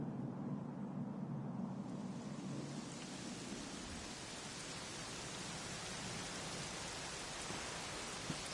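Continuous heavy rain in the video game Dragon Quest XI hissing steadily, with a low rumble at the start that fades into an even wash of falling water.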